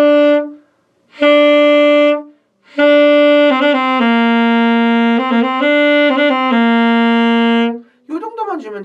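Saxophone played with too weak a breath, giving sustained harmonic tones in several phrases separated by short gaps, with pitch wavering slightly, ending in a rougher breathy burst.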